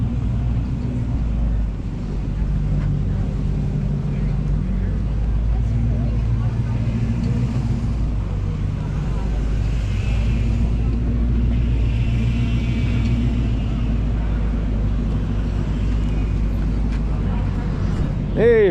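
Hot rods roll off a ferry during Deuce Days in Victoria, a steady, loud low rumble of engines that holds for the whole stretch without a break.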